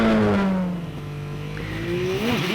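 An OMS hillclimb race car held in a low gear at full power, engine howling loud and close then pitching up as it surges toward the finish line, with no one talking.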